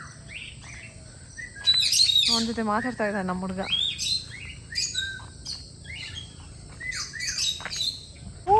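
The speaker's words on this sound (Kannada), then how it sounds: "ಇಲ್ಲಿ ಬರ್ಡ್ ಕೇಜ್ ಅಂತ ಇದೆ. ಸೊ ಅದರಲ್ಲಿ ಬರ್ಡ್ಸ್ ಇದೆ" Small birds in a resort bird cage chirp and tweet in short bright bursts, with a louder squawking call in the middle, while people talk nearby.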